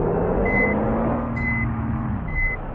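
A Volvo bus backing up sounds three evenly spaced electronic reversing beeps over the low rumble of its idling engine.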